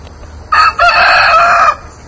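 A blue barred rock rooster crows once, loud and close: a short opening note, a brief break, then a long sustained cock-a-doodle-doo call over a quiet farmyard background.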